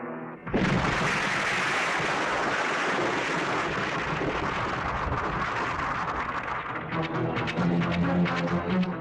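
A sudden loud blast erupts and rolls into a sustained roaring rumble that fills the space for several seconds, close and overwhelming.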